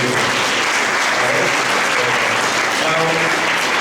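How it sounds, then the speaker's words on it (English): College auditorium audience at an HR conclave giving a big round of applause, dense continuous clapping filling the room at a steady loud level. "big round of applause to Phani and everyone"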